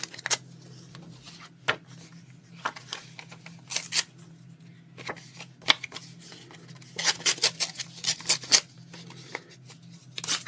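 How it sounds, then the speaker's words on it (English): Old book paper is ripped by hand in quick, crisp tears, close and dry, scattered irregularly and clustering into a rapid run of rips toward the end over a faint steady hum. "Just some old book paper that I'm ripping up."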